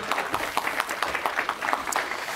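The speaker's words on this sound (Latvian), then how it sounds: "Aplausi!" An audience at a Latvian science lecture claps after the talk ends, a steady patter of many hands at moderate volume from across the room, with faint talk underneath.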